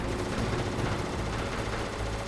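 Dense, continuous gunfire and explosive blasts from a Metal Gear Solid boss fight with a guided missile, loud and unbroken with no pauses or speech.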